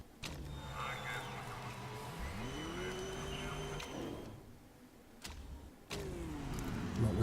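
Race cars in the Motorsport Manager video game pull out of the pits, their engine whine rising in pitch as they accelerate, followed by more mechanical clunks and revving near the end, with no voice.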